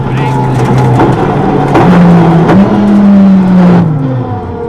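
A Ford Focus WRC rally car drives a stage at the 2002 Rally Finland, its engine droning loud and close with a rising whine, under speech throughout.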